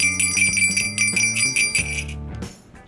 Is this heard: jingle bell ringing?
yes